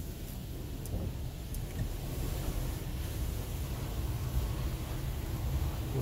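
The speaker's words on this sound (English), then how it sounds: "Underbody spray." Underbody spray in a Ryko Radius HT automatic car wash at an Esso station in Mississauga, heard from inside the car as a steady, loud rushing hiss of water with no break or talk.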